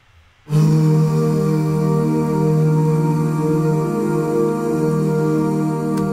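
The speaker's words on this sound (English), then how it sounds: "we've added some more background vocals" Sustained, layered vocal harmonies enter suddenly after a brief silence and hold a rich, steady chord to the end.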